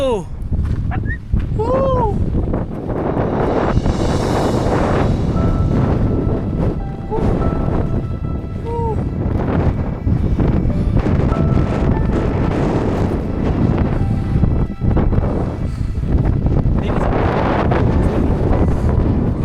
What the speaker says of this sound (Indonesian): Oh, anginnya guys.